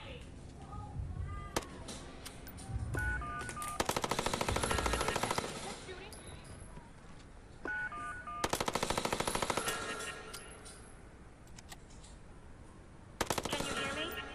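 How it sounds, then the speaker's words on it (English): Video game gunfire in Watch Dogs, bursts of rapid automatic shots in several loud clusters amid game sounds and voices, with sharp single cracks between the volleys. "Someone's firing a gun!"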